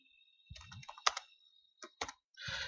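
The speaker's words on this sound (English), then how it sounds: "if you are typing on the command line" Computer keyboard typing at a Linux command line, a few scattered close key clicks in short bursts separated by quiet pauses.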